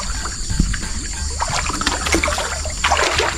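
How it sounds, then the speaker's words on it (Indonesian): A shallow river with a sandy bed flows and trickles close by, a steady watery rush with small splashes and gurgles, and no talking. "Nah, inilah dia. Ini sungainya nih."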